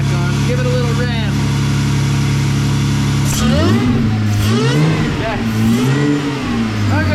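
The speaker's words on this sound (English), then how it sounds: "We're just gonna put this air cleaner back on, give it a little rev." A Jeep engine with its air cleaner just refitted idles steadily, then revs up and down in several rising and falling swells, loud and close, with a brief spoken word over it.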